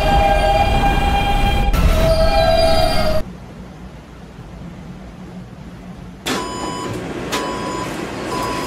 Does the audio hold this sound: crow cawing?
no